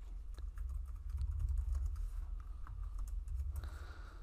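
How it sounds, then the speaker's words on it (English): Steady typing on a computer keyboard, a continuous patter of close key clicks over a low background hum. "If I can type correctly here."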